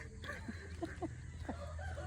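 Chickens and a rooster cluck faintly in short, scattered calls over a steady low outdoor hum on a rural road in Naugsol, Subic.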